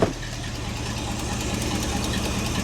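A Mercury Cougar engine runs at a steady idle with its exhaust tailpipe plugged by hand, a close, low rumble with a slight knocking pulse and no voices.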